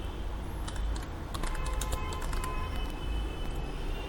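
A customer's name typed on a computer keyboard, a quick close run of key taps in short bursts over a steady background hum, with no talk.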